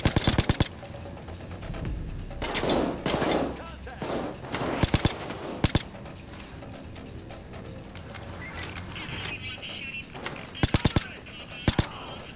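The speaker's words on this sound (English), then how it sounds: "shots have been fired" Bursts of gunfire in a bank robbery video game, several sharp volleys and single shots spread across the stretch, loud against a busy background of game sounds.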